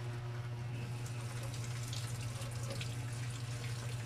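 Tap water runs steadily into a sink as vegetables are rinsed for a marinated pork barbecue dish, a continuous even splash with a low hum underneath and no talking.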